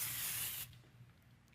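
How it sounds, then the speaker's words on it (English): Baking spray hisses from an aerosol can into a cupcake pan in one steady, close burst that cuts off abruptly, followed by faint kitchen handling sounds. "I'll just add a little more of my baking spray here."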